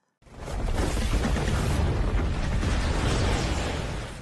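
A dragon bone erupts in a continuous, very loud barrage of explosions, a dense roaring rumble of overlapping booms that surges in at once and holds steady, with no voices.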